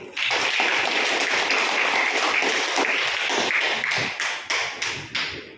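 Schoolchildren in a classroom clapping their hands together, a loud burst of many claps at close range that breaks into a few uneven, fading rounds near the end.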